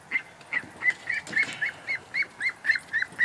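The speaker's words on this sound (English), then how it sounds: "Doug's so relaxed with the ducks, and they just lose it." Loud, rhythmic honking calls from agitated domestic ducks, about a dozen evenly spaced squawks repeating close by in an outdoor pen.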